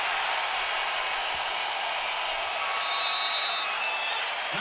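A home crowd cheering at an NCAA men's basketball tournament game between Dayton and Syracuse, a dense steady roar of many voices filling the arena, with a faint whistle partway through.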